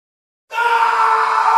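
A man screams in a Hindi audio drama, a loud sustained cry that starts abruptly after half a second of silence and holds steady at full strength without any speech.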